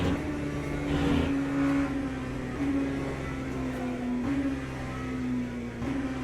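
An LMP race car engine in the Le Mans Ultimate racing game drones steadily at high revs, its pitch holding fairly level with slight rises and dips, loud and continuous with no talking.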